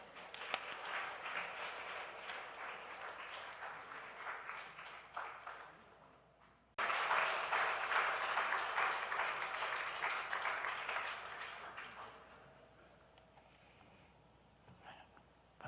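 A church congregation at a women's special prayer meeting applauds a pastor coming forward. The sustained, dense clapping swells, dips near the middle, then surges again before gradually fading.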